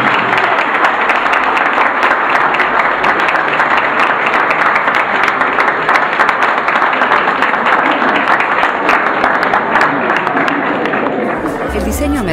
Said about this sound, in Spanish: les quiero pedir un aplauso grande y felicitar y agradecer a Amelia, a Jonathan y a Diego por la organización del evento.